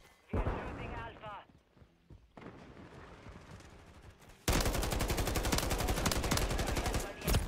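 Gunfire in a Call of Duty Domination match, starting with a short loud burst, then a quieter stretch of game sounds and scattered shots, and ending in sustained, heavy, rapid automatic fire that stays loud to the end.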